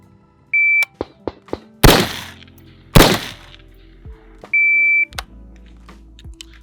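Rifle drill on a range: a shot timer's electronic beep, then a controlled pair of sharp, loud rifle shots about a second apart, followed by a second timer beep, clicks and handling knocks in between.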